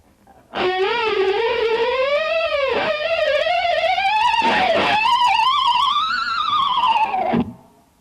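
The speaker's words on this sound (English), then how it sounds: "a succession of 3 harmonics and using the tremolo bar in a way to bend down and up and wiggle at the same time" Guitar harmonics are struck one after another on an electric guitar while the tremolo bar bends them down, up and wiggles them, giving a haunting, swirling wail. The sound is loud and sustained for several seconds with no talking.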